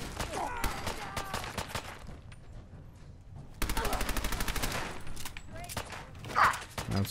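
Video game gunfire in Fallout 4, with loud automatic bursts of rapid, evenly spaced shots, a pause, then another long sustained burst and a few scattered shots near the end.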